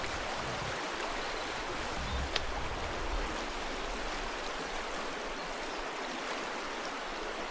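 Mountain stream near a monastery trail outside Godech, water rushing steadily and fully with a dense, even hiss, close by and unbroken throughout.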